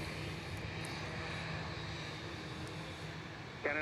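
Steady, loud roar of FedEx MD-10 cargo jet engines at Miami Airport, a continuous broadband rumble holding level throughout with a small bump at the end and no talking.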